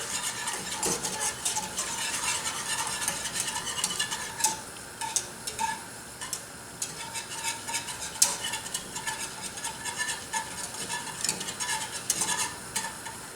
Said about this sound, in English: give this a really good stir